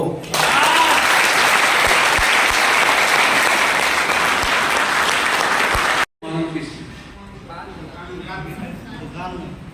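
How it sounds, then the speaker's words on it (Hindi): Seminar audience applauding loudly and steadily for about six seconds, the clapping cutting off abruptly before a voice carries on speaking over the room. "ताली बजाओ"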